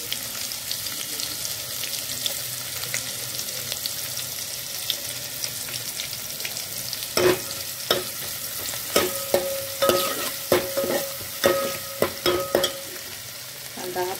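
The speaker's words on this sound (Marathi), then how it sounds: "त्यानंतर कांदा घालून घ्यायचा," Onion frying in a spiced oil tempering with asafoetida, a continuous sizzle under which a spoon scrapes and clinks against the pan in repeated stirring strokes during the second half.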